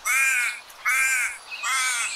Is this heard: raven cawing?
yes